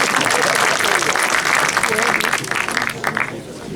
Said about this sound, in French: Donc, je pense que ça mérite des applaudissements.